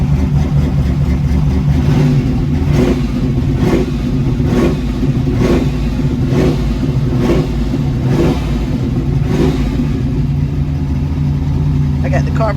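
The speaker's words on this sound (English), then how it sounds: "I got the carburetor just about adjusted good. Good throttle response." A Chevrolet El Camino engine revs repeatedly after a carburetor adjustment, with loud rhythmic throttle blips rising and falling over a steady low idle rumble, close and continuous.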